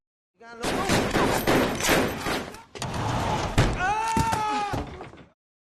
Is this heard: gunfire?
yes